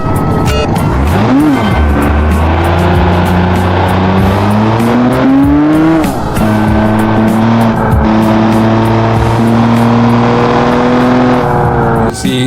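A 200-horsepower car engine in the BeamNG driving game revs loudly and continuously, pitch climbing and dropping through several gear shifts, held near 2000 RPM at times, close and dominant throughout.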